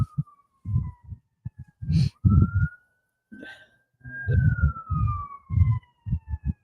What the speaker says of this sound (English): No, that was an ambulance.